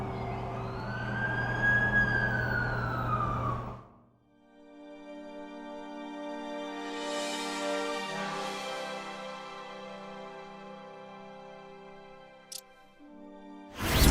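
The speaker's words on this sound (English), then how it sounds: "That's the ambulance I called." An ambulance siren in The Amazing Spider-Man 2 video game wails in rising and falling sweeps, then gives way to steadier sustained tones, with a brief sharp click near the end.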